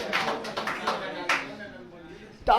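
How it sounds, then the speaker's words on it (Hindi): Several sharp hand claps in quick succession, then a lone clap and a louder burst near the end, mixed with voices talking nearby. "ताली अच्छा ही मारो"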